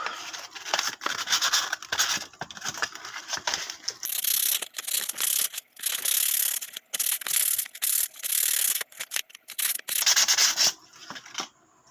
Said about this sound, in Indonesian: Saya akan coba amplas dulu.